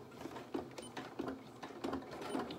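Sewing machine stitching over the folded edge of a small doll's shirt, a close run of rapid mechanical needle clatter that pulses in short bursts and pauses, with no voices.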